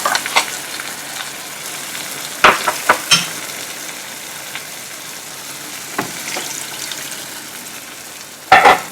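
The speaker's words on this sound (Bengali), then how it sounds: "এবার আমি এতে দেবো নারকেলের দুধটা।" Canned coconut milk, thinned with a little water, goes into a pan of frying jumbo prawns for a curry: a steady close sizzle with a few sharp utensil clinks scattered through it, and no talking.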